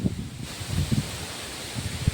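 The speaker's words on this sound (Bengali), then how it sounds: "দেখো বন্ধুরা কেমন বাতাস বইছে দেখো হাওয়া হচ্ছে প্রচণ্ড" Gusty wind rushes through leaves in uneven surges over a rice field under a dark sky, a continuous rustling hiss with occasional low buffeting thumps.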